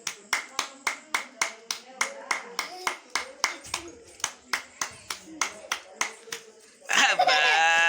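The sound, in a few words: hand clapping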